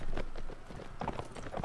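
Horse hooves clatter in the Mount and Blade Warband video game, a busy run of irregular clip-clop beats from several horses amid battle noise.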